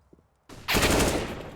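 Counter-Strike: Global Offensive gunfire in a competitive ESEA match: after a brief quiet moment, a sudden loud, sustained burst of rapid shots rings out close.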